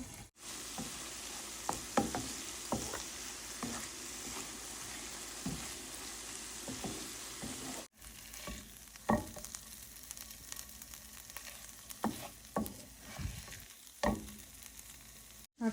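Fish frying in a pan on a home stove, a soft, steady sizzle with scattered clicks and stirring taps, close but fairly quiet, with no talking.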